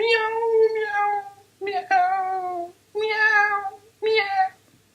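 A cat meows four times in a row, each call drawn out and fairly loud and close, with short pauses between them and no talk over them.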